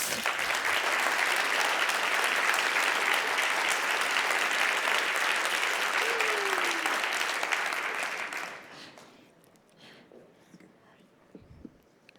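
Audience applause at an open-mic learning battle session at the OEB 2024 conference, a dense, steady wash of many hands clapping loudly for about eight seconds before dropping away to a quiet room.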